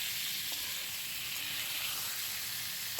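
Eggplant pieces fry gently in a pan, giving a soft, steady sizzling hiss heard up close with no speech.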